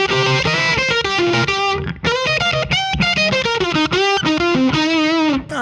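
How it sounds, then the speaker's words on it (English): Electric guitar played through the Line 6 Helix Kinky Boost gives a fuzzy, distorted tone, a loud continuous run of ringing notes and short phrases with brief gaps between them, no talking. "The kinky boost I remember being a bit woofy, a bit kind of like almost"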